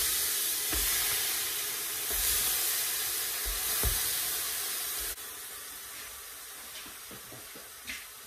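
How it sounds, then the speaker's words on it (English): Meat dropped into a hot pot on the fire for Nigerian party jollof rice gives a steady hiss and sizzle with a few soft thumps and clinks. There is no talking. "I'm putting in the meat."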